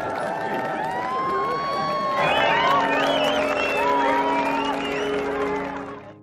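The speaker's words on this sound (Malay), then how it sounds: "Orang ramai pun turut bersorak piwit melihat kebahagiaan tersebut yang live depan mata" A large crowd cheers over a dense wash of voices, with shrill whistles and whoops rising and swelling in the middle, then fading toward the end.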